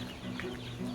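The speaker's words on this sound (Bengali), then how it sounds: "আর এই যে আমার মুরগি।" Chickens clucking inside a poultry house holding about 150 birds that are feeding. The short, close bursts of clucking overlap above a steady barnyard murmur.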